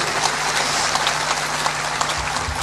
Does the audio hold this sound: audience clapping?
yes